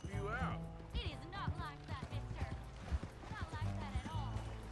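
A horse in the Red Dead Redemption 2 video game clip-clops along at a steady rhythm, with hoofbeats and game sounds layered under music and occasional speech.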